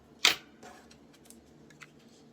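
Scissors make a single sharp snip through paper near the start, followed by faint scattered rustles and small clicks in a quiet room.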